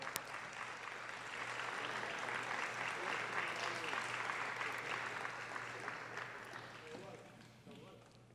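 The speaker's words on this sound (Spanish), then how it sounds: "Fuerte el aplauso, por favor." An audience applauds at a national arts, science and literature award ceremony as a prize is presented, with dense clapping swelling and then slowly fading, heard from some distance, with a voice briefly audible.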